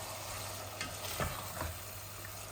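Tomatoes go into hot oil in a pan for a sour salmon-head and lemon curry. A soft, quiet sizzle runs throughout, with a few brief crackles and stirring scrapes, and no voices.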